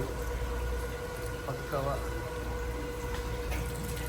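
Aquarium motor pump pushing filtered water up into a home fish tank, a constant watery hum and trickle running beneath a voice speaking.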